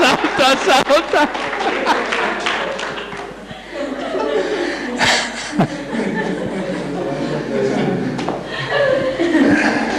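A classroom group claps for a girl named Valeria after she killed a spider, with brisk close clapping at the start followed by chuckles, laughter and overlapping voices.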